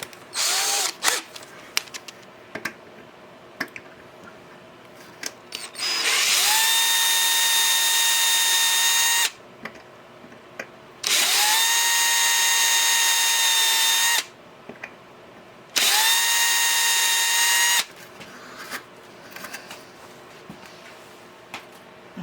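Power drill widening screw holes to 3/32 inch in the dust cover of a Technics SL-D30 turntable, three sustained high-pitched bursts of drilling, each a few seconds long, close and loud, separated by quieter handling noises.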